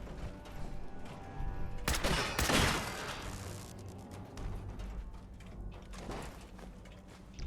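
Gunfire against a robot in Fallout 4 comes as a dense burst of shots with mechanical clatter near the two-second mark, followed by scattered quieter impacts and a softer later burst, all moderately loud, with no voices.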